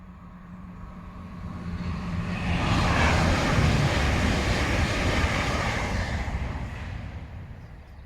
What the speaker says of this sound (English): The drone I've got is pretty much the cheapest one on the market, so it's a little bit flimsy